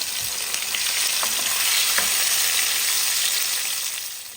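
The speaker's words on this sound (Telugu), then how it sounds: "టొమాటోస్ ఇందులో లైట్గా వేపుకోవాలన్నమాట సో ఇది లైట్గా వేయించుకుందాం ఇప్పుడు" Tomatoes and grated onions lightly frying in a pan give off a steady, even sizzle that stays loud and close throughout, with no talking.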